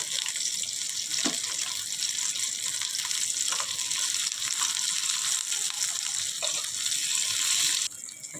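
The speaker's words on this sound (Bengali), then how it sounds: "শুটকি মাছের ভর্তার জন্য মাছটা যে ভেজে নেবো, চুলাতে তেল দিলাম" Dried fish frying in oil on a stove for a Bengali mashed dried-fish dish. A steady, dense sizzle runs throughout and cuts off sharply near the end.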